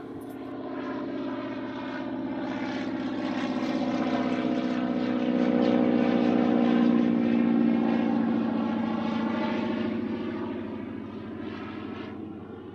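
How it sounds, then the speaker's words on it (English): A float plane circles overhead, its propeller engine drone swelling steadily as it draws nearer, peaking mid-way, then fading off into the distance over a quiet lakeside setting. "I don't know what that float plane is doing."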